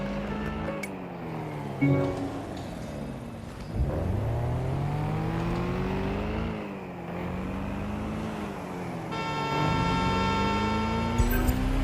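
Car engine driving in the video game Watch Dogs Legion, a steady mid-level hum with rising and falling revs, shifting pitch as the car accelerates, alone without talk.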